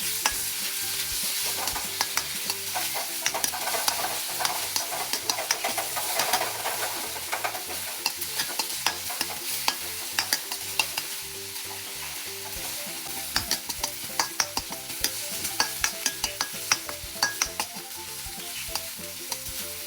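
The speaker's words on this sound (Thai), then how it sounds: "จากนั้นเจียวพริกกับกระเทียมให้หอม" Chili and garlic fry in a pan with steady crackling sizzle while a utensil stirs and scrapes the metal, close and continuous throughout with no voices.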